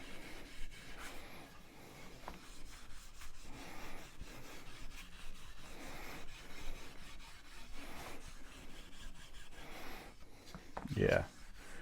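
Steel wool rubs down a coated axe handle, a Swamper-pattern axe with its second coat on, in close, steady scrubbing strokes, ending with a brief sharper squeak.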